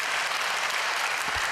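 A church congregation claps during a sermon in a brief, dense burst of applause that carries evenly throughout.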